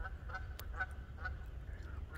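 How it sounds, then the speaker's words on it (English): Canada geese honk several times at an outdoor evening spot by a dock, spaced calls sounding moderately distant over a low rumbling wind background. "Canadian geese activity."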